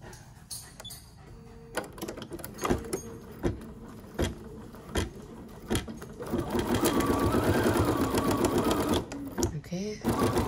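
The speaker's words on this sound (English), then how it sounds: "So now I can just go ahead and start embroidering." A BERNINA 770 sewing machine runs an embroidery pattern, its needle first thudding in slow separate strokes, then settling into a steady fast, loud buzz close by, with someone talking over it.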